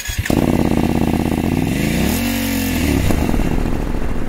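A 2021 BMW 750 GS motorcycle on Anakee Wild 50/50 tires roars loudly up close while being ridden, engine pitch rising through a gear, dipping, then climbing again.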